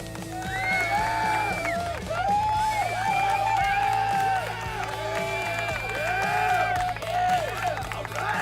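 Canned applause and cheering effect plays for a viewer on a livestream, with crowd whoops and clapping over a pulsing musical backing, continuous for several seconds.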